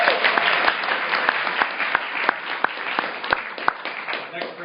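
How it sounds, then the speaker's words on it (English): Conference audience at a 2013 enterprise collaboration panel applauding a panelist, a continuous crowd of clapping with occasional sharp individual claps, and a voice talking faintly underneath. "Another round of applause for Greg, please."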